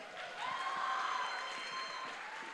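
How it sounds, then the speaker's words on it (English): An audience at a theater screening of student films gives a soft, brief round of applause, steady clapping with a faint sustained tone in the background. "Again, a bigger round of applause"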